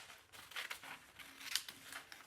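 Scissors cutting around a folded paper bodice block pattern: soft, quiet snips and faint paper crinkling in a short sequence, close and alone.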